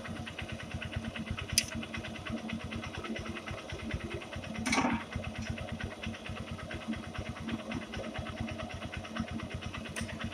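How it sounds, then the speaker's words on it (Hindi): A 2019 Honda Shine SP motorcycle engine idles nearby with a steady, even putter, punctuated by a couple of brief rattling clicks. "आप एक बार साउंड सुन इंजन का साउंड सुन लीजिए"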